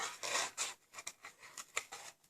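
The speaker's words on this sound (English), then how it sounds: "Take my snips. And we're just going to fussy cut now." Snips fussy cutting a card with a white heat embossed falling-flowers design: close, quiet crisp snipping and rasping of paper in a run of irregular cuts.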